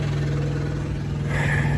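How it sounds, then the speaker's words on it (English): A Peterbilt truck engine runs steadily and loudly with an exhaust leak, a constant close rumbling drone with a low hum and a faint raspy hiss, no talk. "See how loud it is? It's not supposed to be that loud. Got a leak inside the case somewhere, exhaust leak."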